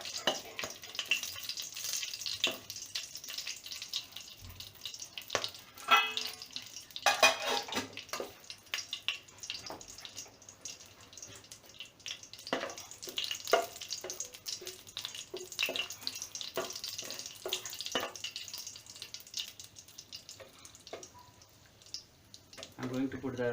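Cloves, bay leaves and cinnamon frying in oil in a pan, a soft continuous sizzle with occasional utensil clinks, close and fairly quiet, with some background speech.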